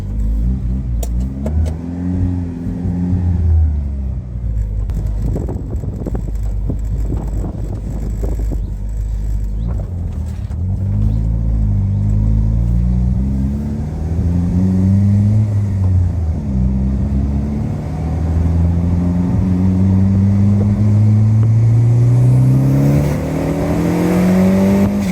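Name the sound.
turbocharged Peugeot 106 GTI engine accelerating on test drive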